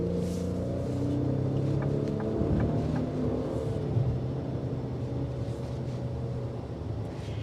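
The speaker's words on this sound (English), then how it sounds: "Even though it's a 4-cylinder turbocharged engine, it does feel very torque happy at a low note." A 2025 Ford Explorer ST Line with a 4-cylinder turbocharged engine accelerates, giving a steady low engine drone with harmonic tones that climb slightly, heard from inside the cabin.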